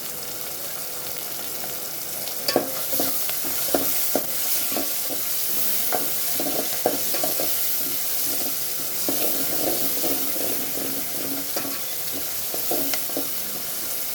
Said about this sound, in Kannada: ಸ್ವಲ್ಪ ಕೊತ್ತಂಬರಿನೂ ಫ್ರೈ ಆಗಲಿ ನೀಟಾಗಿ